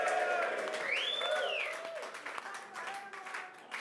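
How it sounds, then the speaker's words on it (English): Applause from a studio audience greeting a guest on a rugby preview show, a steady wash of clapping under talk and a whistle-like tone throughout. "Give him a round of applause."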